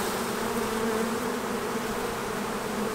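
A steady, dense buzz of many honey bees being shaken off a hive frame, close and continuous, with no voices.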